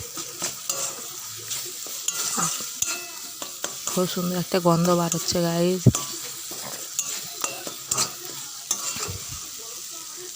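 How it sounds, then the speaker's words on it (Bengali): Spices sizzle in a kadai for egg curry while a utensil scrapes and stirs; a voice speaks briefly over the frying. "মশলাটাও ভালোভাবে ভাজা হয়ে গেছে"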